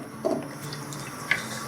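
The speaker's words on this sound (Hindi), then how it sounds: "अब इसको हम तेज़ आंच पे फ्राई कर लेंगे" Mutton sizzles in an open karahi over high heat, a soft steady hiss and bubble broken by a couple of brief spits.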